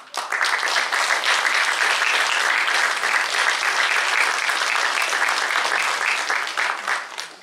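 Sustained applause from an audience at a rural education awards gala in Fălticeni, steady and dense throughout as teachers are honored, with no talk over it.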